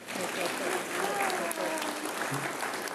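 Audience applause from a church congregation, a sustained burst of clapping that stays loud for about three seconds with some voices mixed in.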